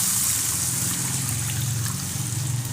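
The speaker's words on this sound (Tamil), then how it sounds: "தண்ணியை வந்து அப்படியே ஆட் பண்ணிடலாம்" Water pours in a steady, close trickle into ragi flour in a bowl while a dough is being made, a continuous gentle splashing stream with no speech.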